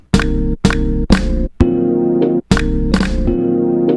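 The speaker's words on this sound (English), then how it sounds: "It makes it all warbly sounding, right?" Five punchy snare hits with ringing tails, each smeared by a wobbling, warbly flux modulation effect, loud and alone.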